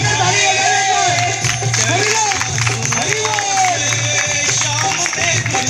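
An audience at a devotional Krishna bhajan claps along in rhythm under loud amplified singing and music, the clapping steady but partly masked by the voice and instruments.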